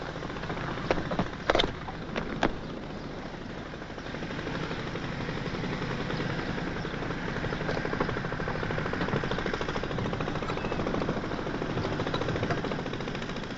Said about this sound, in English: That's not a car, it's motorbikes.